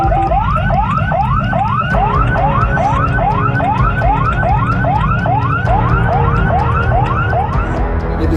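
An ambulance siren wails in fast, repeating upward-sweeping whoops, loud and close over a heavy traffic rumble, with no one speaking.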